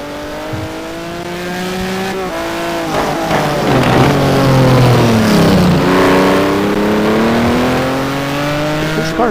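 A Maserati GT1 race car at Interlagos howls loudly through rising and falling gear changes, engine pitch sweeping up and dropping between shifts as it passes close, with no talk over it.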